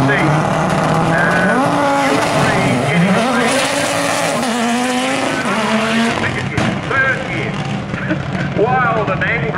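An Audi Quattro rally car powers through a Leyburn sprint course, its engine loud and close, pitch climbing and dropping through gear changes as it accelerates hard out of a bend.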